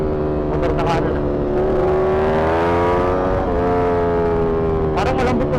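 A motorcycle passes on the right during a road ride, its loud engine note rising and falling in pitch over a constant close-up drone of the rider's own bike and wind.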